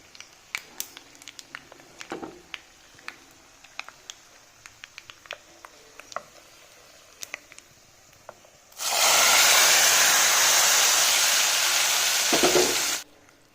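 Scattered faint pops and crackles of dry red chillies in a tempering, then a sudden loud burst of sizzling that roars for several seconds before cutting off.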